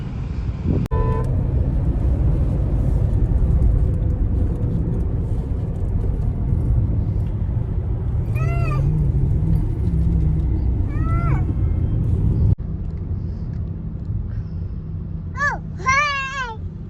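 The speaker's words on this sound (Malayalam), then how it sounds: "അതാ പൂച്ച." A house cat meows several times in short rising cries, once around the middle and again near the end, over steady low rumble and distant traffic.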